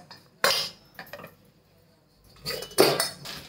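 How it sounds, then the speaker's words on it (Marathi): Metal lid clanks onto a pot covering karanji dough: a sharp clatter, a short pause, then a second burst of clinking metal as it settles, close and clear with no voices. "झाकून ठेवते याला।"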